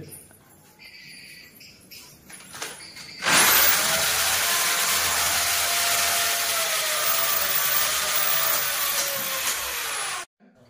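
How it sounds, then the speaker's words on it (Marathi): A power drill boring holes starts up after a few quiet seconds and whines steadily for about seven seconds before cutting off abruptly. "ड्रिल मशीनने होल पाडून घेत आहे इकडे."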